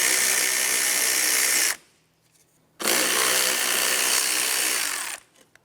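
A power tool on 10 mm nuts holding the coolant reservoir of a 2004-2008 Pontiac Grand Prix 3.8L V6 whirs loudly in two bursts, the first about two seconds and the second about two and a half, separated by a short quiet pause.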